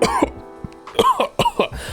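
A person gives a couple of short, harsh coughs close to the microphone, separated by a brief pause, with a throaty rasp.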